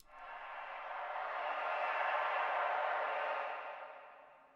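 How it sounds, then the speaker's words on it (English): A synthetic crowd-like riser swells smoothly from quiet to a broad, loud wash of noise, then fades out, standing alone. "And then I added this crowd riser."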